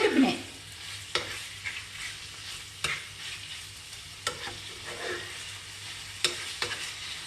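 Garlic and onion sizzle steadily in a pan while a utensil stirs them, giving repeated sharp scraping clicks over a constant frying hiss. No one speaks.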